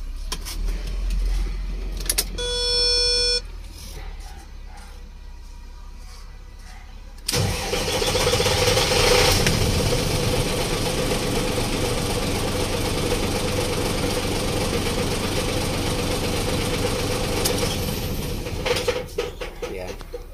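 A car engine cranks and restarts after a cut-out fault, then settles into a loud, steady idle close by; a chime sounds just before the start and a voice is briefly heard.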